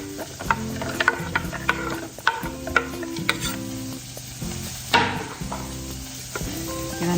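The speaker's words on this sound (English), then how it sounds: "Give them a good mix." Raw radishes coated in extra virgin olive oil are stirred and tossed in an air fryer pan, giving a run of close, scraping and clattering mixing strokes in uneven bursts with no talking.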